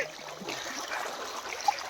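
A river flowing past a village crossing trickles and burbles softly, a faint continuous watery wash with small splashy details and no voices over it.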